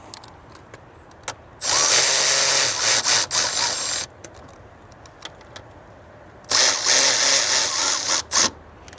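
A power tool runs in two loud bursts, first about two seconds then a shorter run with brief stutters, tightening factory bolts on an S&B resonator delete for a 2011–16 GM/Chevy LML 6.6L, with quiet gaps between.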